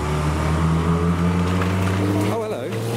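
A colour-flip Nissan GT-R pulls away from a Japanese car show with a steady, low engine drone and a faint whine. Near the end a voice talks over it.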